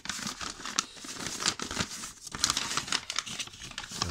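Paper envelope crinkled, rustled and torn open up close, with irregular crackling bursts and brief pauses while being handled.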